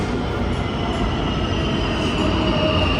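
A Warsaw metro train rumbles steadily into an underground station, its broad, continuous roar filling the platform with faint metallic squeal on top.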